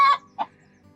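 A Light Sussex hen gives two short clucks close by, the first slightly longer and the second a brief chirping note, then quiet.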